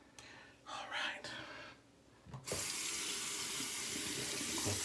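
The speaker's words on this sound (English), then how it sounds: "Quick rinse." A Leaf razor is rinsed under a running tap: after a few quiet seconds with some soft whispered talk, the faucet bursts on into a loud, steady close rush of water that continues to the end.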